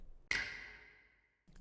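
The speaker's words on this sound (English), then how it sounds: "Then I added this snap that sounds like this." A single crisp snap sample from a trap-style R&B beat made in FL Studio, struck once and left to ring out in a long, bright reverb tail that fades before a faint new hit.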